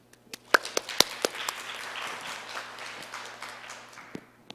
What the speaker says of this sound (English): So please join me welcoming them with a round of applause.